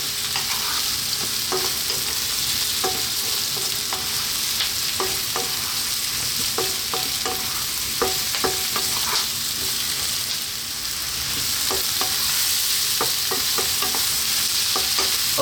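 Chunky mushrooms frying in a pan over medium heat, a loud continuous sizzle broken by frequent scraping and tapping of a utensil as they are stirred, with no talking.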